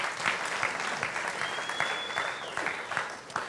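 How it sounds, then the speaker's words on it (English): A synagogue congregation at a Shabbat service applauds in a steady crowd clapping that fills the space, with a few sharper individual claps standing out over the even wash. "You can clap for Elena."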